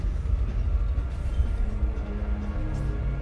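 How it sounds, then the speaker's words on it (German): In the video game Poppy Playtime, a train starts to move with a heavy low rumble and rattling carriages, plus faint squeals and clanks from the wheels, loud and steady throughout, with no talking. "Jetzt fährt der Zug los."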